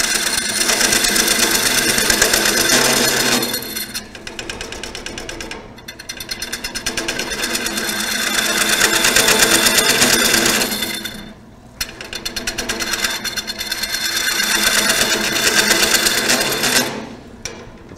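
A wood lathe cutter bites into a spinning piece of wood, giving a loud, harsh, steady cutting rasp in long bursts broken by brief pauses as the tool is eased off, with no talk over it.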